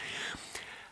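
A voice makes a breathy, sustained hiss imitating radio static, with a brief crackle midway, close and soft.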